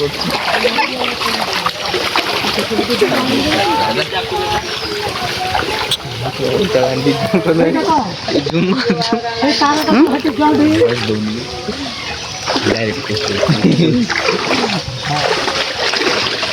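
Water gushing and splashing steadily from a village tubewell, a loud continuous close-up rush with someone talking over it throughout.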